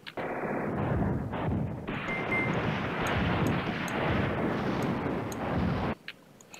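Units firing in the WWII wargame Command Ops 2, a continuous dense roar of gunfire and artillery rumbling for about six seconds before cutting off abruptly, followed by a faint click.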